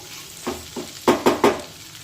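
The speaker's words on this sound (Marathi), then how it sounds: "तर आता 2 ते 3 मिनिटे ही भेंडी आपण छानपैकी परतून घेऊया" Okra sautés in hot oil in a kadhai with a spoon, giving five distinct scraping stir strokes, the last three louder and quicker, over a faint background sizzle.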